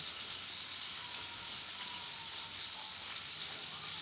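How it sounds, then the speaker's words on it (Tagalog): A pot of monggo soup with malunggay leaves bubbles and simmers steadily, a soft continuous hiss and faint burble heard close by with no voices. "Papakulo-kuloin natin ng konti."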